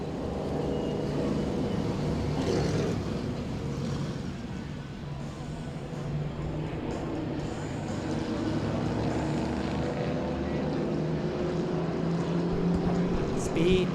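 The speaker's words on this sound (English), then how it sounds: "the Vora Vintage Modifieds, coming on by for their parade lap" Vintage modified race cars roll past on a parade lap at a speedway, a broad rumbling engine drone that swells and fades as the field passes, with loud announcer-style talk over it.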